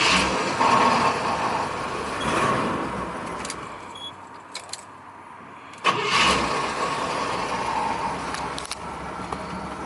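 A 1978 Cadillac Eldorado Custom Biarritz, a barn find, cranks and fires up, then settles into a steady idle; the engine note dips mid-clip before a second loud catch and continues rumbling.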